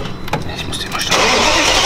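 A BMW E39 540i catches and starts, the crank giving way to a loud, steady engine roar that fills the second half, with a person speaking over the early cranking.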